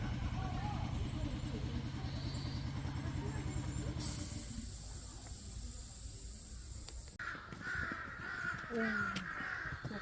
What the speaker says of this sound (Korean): 허스키한 까마귀